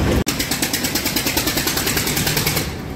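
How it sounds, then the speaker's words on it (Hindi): A brand-new tractor idles loudly and close by while waiting to load sugarcane in the cold. Its engine makes a steady, rapid rhythmic chugging with a thick rattle, and one brief knock is heard near the start. "यो बिल्कुल नया ट्रैक्टर है"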